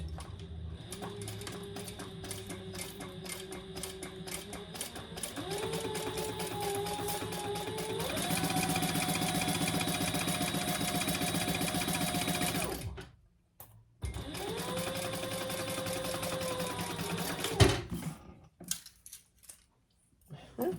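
A sewing machine runs steadily at a 5 stitch length, its motor whirring in a few sustained bursts at shifting pitch, close and clear, with a short pause midway and then a final run that ends in stops.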